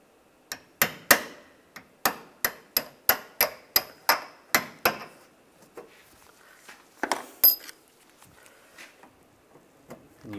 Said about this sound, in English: Just using a punch to just punch out the center.